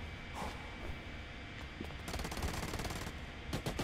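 Automatic gunfire in the shooter video game Special Forces: Team X, with rapid bursts of shots over a dense background of game noise. A longer burst comes in the second half.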